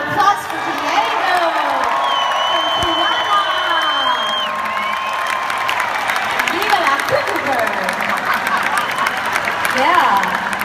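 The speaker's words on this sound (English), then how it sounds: "let's have a big round of applause for Diego." A concert crowd at a 2015 concert tour stop in San Diego claps and cheers, with whoops and shouts rising over steady applause while an amplified voice speaks above it.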